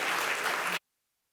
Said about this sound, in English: So I think a round of applause is due.